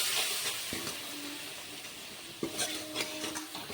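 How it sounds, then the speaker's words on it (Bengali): Ground spice paste with turmeric fries in a pan for a vegetarian yellow pea dish, giving a steady close sizzle with a few scraping stirs of a spatula midway and near the end. "তো খুব ভালো করে মশলাগুলোকে ভেজে নিতে হবে"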